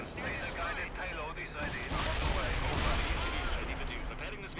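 Heavy explosions and booming artillery-like blasts as an apartment building is blown up in the World in Conflict strategy game, dense rumbling bursts with a speaking voice over parts of it.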